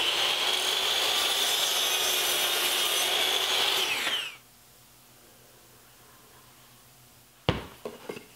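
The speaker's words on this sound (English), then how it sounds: "I'll mark a line at the short point of the miter and cut it back." A handsaw cutting back a wooden block at the short point of a miter on a spline jig, a dense close rasping that runs about four seconds and then stops, followed by quiet and a brief knock.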